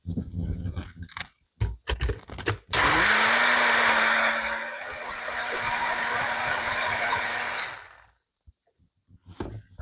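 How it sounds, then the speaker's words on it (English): A blender whirs loudly through fire roasted tomatoes for about five seconds, starting abruptly, then dropping to a slightly lower steady drone before stopping, with clicks and handling noises before and after. "I will blend the fire roasted tomatoes"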